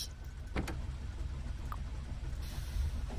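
A train in the factory-building video game Factorio pulls away, a steady mechanical whir and rumble that holds at an even level throughout, with a brief rattle early on and no voices.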